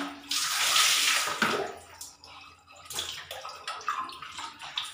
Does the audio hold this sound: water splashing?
yes